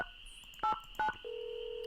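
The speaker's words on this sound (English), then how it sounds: "I guess we can try calling her back." Telephone keypad tones in a Nancy Drew computer game: two short touch-tone beeps, followed by a steady ringing or call tone that holds to the end.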